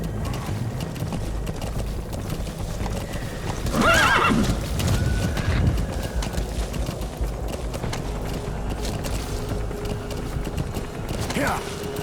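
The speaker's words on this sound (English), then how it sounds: "Come on, horse." A horse in the video game Metal Gear Solid V galloping with steady rhythmic hoofbeats and giving loud whinnies, over game ambience and mechanical clatter, with someone talking briefly.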